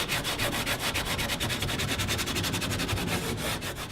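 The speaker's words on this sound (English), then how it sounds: "First off, he's going to sand the area that needs to be repaired." Hand sanding along the cracked side of a composite Aramid Lite canoe, a close, loud rasping rub repeated in quick, even back-and-forth strokes without pause.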